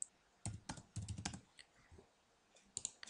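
Quick bursts of clicky key presses on a computer keyboard as a player's name is typed, close and fairly quiet, in uneven clusters with short pauses, no voices.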